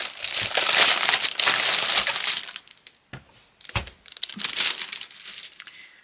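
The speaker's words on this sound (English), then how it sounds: "we've got the plastic, which I'm going to take off" Plastic wrapping is peeled and crumpled off a Woomer Lightfast 72 colouring pencil set, loud close crinkling in dense bursts with a short pause midway, no talk.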